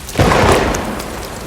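A sudden heavy rumble like rain or thunder bursting in, loud and close, then fading into a steady wash over about a second.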